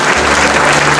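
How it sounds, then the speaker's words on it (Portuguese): A church congregation applauds during a worship service, a dense, steady wash of clapping filling the whole short moment at close, loud level with no pauses. "E vamos aplaudir ao Senhor."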